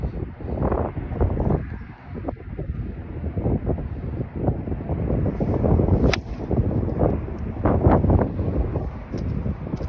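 Strong wind roars across the microphone on a golf course in bad weather, with a constant, heavy buffeting rumble and gusts that rise and fall throughout, and no voices.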